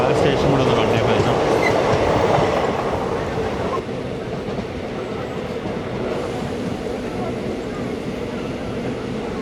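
An Intercity Express train running on rails from Angadippuram toward Ernakulam gives a steady, loud rumble of wheels and carriage noise that eases slightly partway through, with faint clatter throughout.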